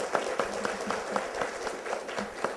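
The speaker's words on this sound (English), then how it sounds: "Let's give LD a round of applause from the SBA." Audience applause at an HBCU tour event at Alabama A&M, steady crowd clapping with a faintly rhythmic pulse, moderately loud and continuous throughout.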